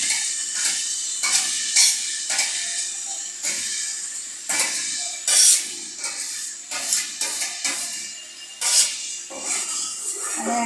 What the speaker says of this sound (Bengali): মশলাগুলো আমি নাড়াচাড়া করলাম।